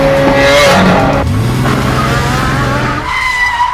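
Taxi on a Manila street during fast, aggressive driving, its tires squealing loudly in a long skid over a roaring, revving engine, close and continuous.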